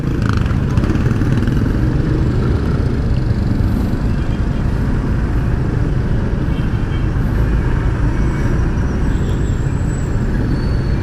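A Yamaha NMAX 155 scooter rides through bumper-to-bumper traffic, its engine and the surrounding road noise forming a loud, steady roar that runs unbroken throughout.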